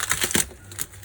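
Plastic cling wrap is pulled and wound around salted fish (fesikh), producing a brief burst of close crinkling and stretching rustles that fades after a moment.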